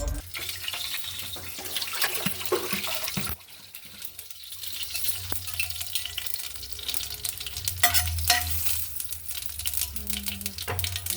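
Oil heating in a pan for oats upma, a steady sizzling hiss with occasional stirring scrapes and light clinks, close and continuous, with one brief dip in the sound partway through.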